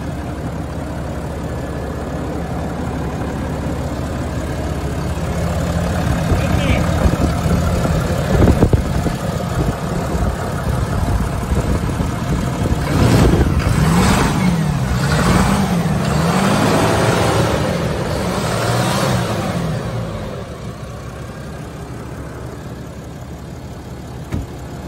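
A 2021 Ram 3500 pickup with a 6.7-liter Cummins turbo diesel idles loudly and steadily up close, then revs a few times with rising and falling engine pitch before settling back to idle.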